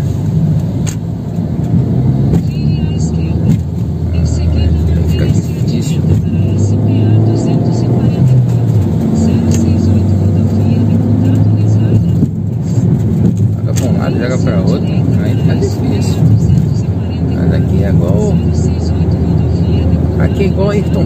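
A car drives along a highway in São Paulo state and pulls out to overtake a truck. The steady engine and road roar stays loud and close throughout, with someone talking over it.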